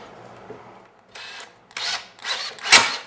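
A power drill drives pocket screws into a wood wainscoting panel in a few short bursts, each louder than the last, close up with no voices.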